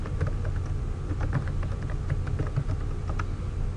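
An email address being entered on a computer keyboard, a quick run of close, clattering keystrokes in an uneven rhythm, heard alone without talk.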